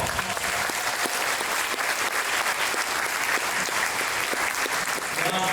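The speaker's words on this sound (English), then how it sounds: "Could we please give them a large round of applause?" Applause fills a banquet hall at the East Alabama Chamber of Commerce annual awards dinner, honoring the Russell County Sheriff's Department. A dense, even round of clapping from a large crowd runs steadily throughout, with faint voices beneath.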